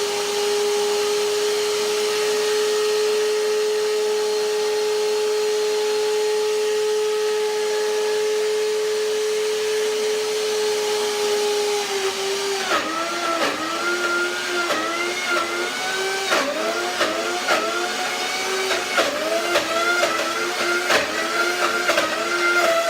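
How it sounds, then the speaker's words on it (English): Countertop blender whirring on raw vegan blueberry pie filling, a steady loud motor drone that shifts into a labored, surging pitch as the thick mixture churns, with no talking. "Let's see the blender dance."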